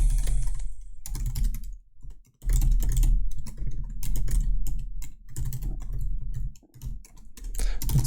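Computer keyboard typing at a desk, a close, clicky burst of keystrokes in quick uneven runs with a couple of short pauses, no voices present.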